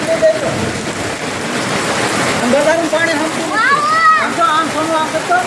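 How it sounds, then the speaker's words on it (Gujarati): Heavy rainwater pours and splashes steadily off a flat rooftop while children chatter excitedly over the rushing water. "આ ધોધ પડે જો અમારા ધાબા ઉપરથી પાણી પડે"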